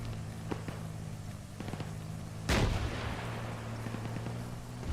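Gunfire in the military video game Arma, with a few distant shots and one loud close blast midway over a steady low engine-like hum.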